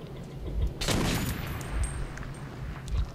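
A newly acquired gun in Metro 2033 fires in a quick burst, one loud blast followed by rapid rumbling shots and echoing booms, close and forceful.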